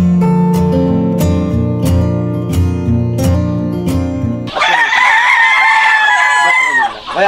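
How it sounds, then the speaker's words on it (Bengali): Fayoumi chickens on a poultry farm cluck and call at close range, a steady flock chorus with repeated sharp calls, then a louder, busier burst of squawking and crowing midway through. "আমি তার এখানে ফার্মি মুরগি আছে, সেই মুরগি সম্পর্কে বিস্তারিত আলোচনা করবো"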